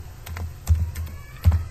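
Keys tapped on a computer keyboard while entering a password: a few close, light clicks with two heavier thumping keystrokes standing out, short and irregular.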